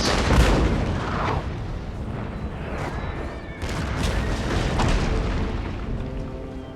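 Artillery fire in the video game Empire Total War, a series of heavy booms and distant cannon blasts rumbling over a continuous battlefield din, with no speech.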